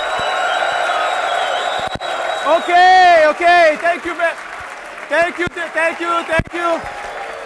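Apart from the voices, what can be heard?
conference audience standing, clapping and yelling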